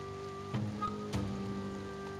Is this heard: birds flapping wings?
no